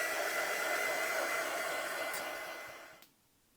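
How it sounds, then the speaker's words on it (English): A heat gun blows a steady, loud hot-air roar over a gel plate print for about three seconds, tapering off and cutting out abruptly near the end. "So I'm always trying to move the heat gun, you will see it in a second, very fast"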